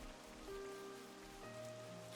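Steady rain shower hiss in the video game Xenoblade Chronicles 3 at night, a continuous soft wash with faint tonal ambient music layered over it, no voices.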